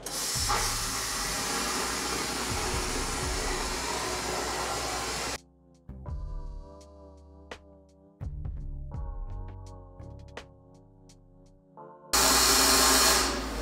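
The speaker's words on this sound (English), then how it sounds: "You got water, abrasive, and compressed air all mixed together into a slurry" A vapor blasting cabinet sprays a slurry of water and abrasive driven by compressed air onto a pair of pliers, making a loud, steady roaring hiss; it cuts off for several seconds while a quieter tonal passage plays, then roars back at the end.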